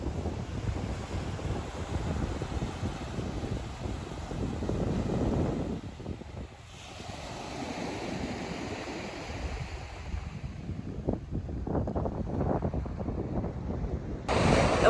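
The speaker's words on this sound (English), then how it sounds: "The wind is whipping" Strong wind whips across a large beach in Costa Rica, buffeting the microphone with a continuous roar over steady crashing surf, and no voices are heard.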